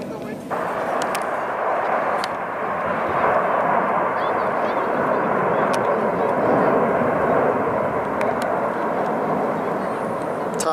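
Hornet jet airplanes flying aerobatics produce a loud, sustained roar that swells and rolls on for about ten seconds without a break, with voices faintly underneath.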